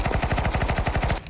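Rapid automatic gunfire in the video game Counter-Strike 2, a loud burst of about a dozen evenly spaced shots over roughly a second that cuts off abruptly, with no talk.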